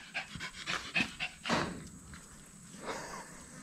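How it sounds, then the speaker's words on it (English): A dog panting in quick, close breaths, with a few soft footsteps, near an excavator hydraulic oil cooler repair on a farm. "This is Paisley. She's not exactly a farm dog"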